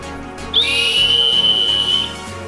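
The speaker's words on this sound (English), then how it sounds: "we have the emergency whistle. So simple stainless steel, and you just blow through this end here." A stainless steel emergency whistle blown indoors gives one shrill, sustained blast of about a second and a half over faint background music.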